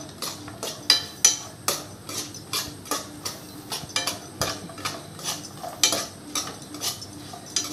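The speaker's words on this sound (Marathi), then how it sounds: "आपण खरपूस आपण खोबरं लाल होईपर्यंत भाजून घेऊ शकता" Grated coconut roasting in a pan for misal, stirred with a spatula that scrapes and taps in a quick uneven rhythm, close and fairly soft, with no voices over it.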